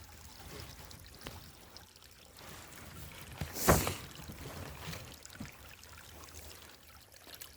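Mountain spring water from a natural spring runs in a steady, soft trickle and flow close by, with a brief louder splash or gurgle in the middle and no talking.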